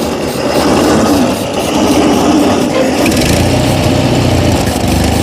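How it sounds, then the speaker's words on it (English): Engine of an abandoned Ford 8N tractor running rough on only a few cylinders, a loud, continuous ragged chugging close by with no talking. "It's running. I only think it's running on like 2 or 3 cylinders"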